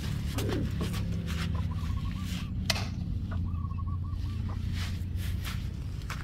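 Pigeons coo softly in a pigeon loft, with a few low rolling calls repeating over a quiet background hum and no voices.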